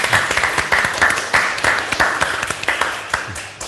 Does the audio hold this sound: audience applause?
yes